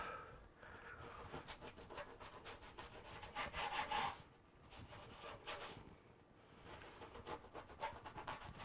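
Knife sawing through a loaf of crusty, airy Sperlonga bread, giving close, quiet, rasping strokes that come in repeated back-and-forth bursts with crackly crust scraping.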